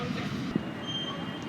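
Interior of a moving passenger train on an Interrail journey in Europe, a steady low rumble of wheels on rails with a brief knock partway through.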